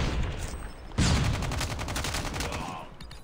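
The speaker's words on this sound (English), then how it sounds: "Sentry gun deployed." A deployed sentry gun in Call of Duty Mobile fires a rapid burst of automatic gunfire that starts abruptly and rattles on steadily at close range, with faint game sounds underneath.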